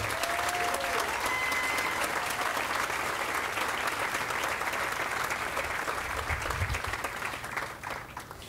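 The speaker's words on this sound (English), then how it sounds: "Please give them a round of applause." An audience at a new stadium groundbreaking gives a steady, dense round of applause for named honorees, loud and continuous before tapering slightly at the end.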